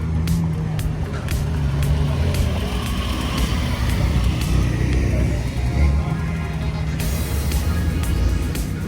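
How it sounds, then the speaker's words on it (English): Porsche cars rolling into a cars-and-coffee show in Edinburg, Texas, a steady close engine rumble from several vehicles with scattered clicks and bumps and some outdoor crowd noise around them. "Porsche crew rolling in."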